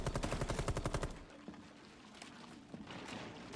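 A loud burst of rapid automatic gunfire in the video game Rainbow Six Extraction lasts about one second, then breaks off into fainter scattered shots and ambient game noise.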